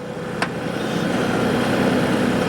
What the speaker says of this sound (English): now I set my tractor at about 1200 RPMs so it can warm up